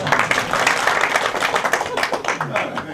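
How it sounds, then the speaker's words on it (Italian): A theatre audience applauds with dense, fast clapping from many hands, steady and fairly close, while a voice talks over it. "ci sono anche gli applausi, vedi?"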